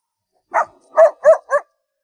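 A small dog at a remote mountain homestead barks at arriving visitors, giving four short, sharp barks in quick succession, close and clear against otherwise quiet surroundings.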